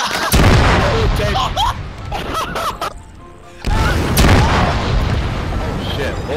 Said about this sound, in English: A building just came down! You just collapsed an entire building